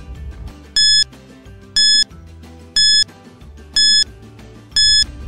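Quiz countdown timer in a children's classroom review game, sounding five loud, evenly spaced electronic beeps about one second apart over a soft musical background.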